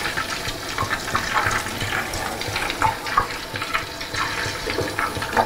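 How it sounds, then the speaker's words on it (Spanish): Butter simmers in a pan as it is clarified into ghee, a close, steady bubbling and popping with a wet, watery texture that runs without a break and without speech. "Como veis, la mantequilla apenas ya hierve"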